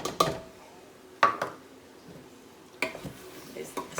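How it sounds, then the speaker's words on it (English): Flour being stirred into clam chowder vegetables in a pot, a few distinct clinks and scrapes of a utensil against the pot spaced apart, with quiet gaps and a voice speaking between them. "Stir this all up."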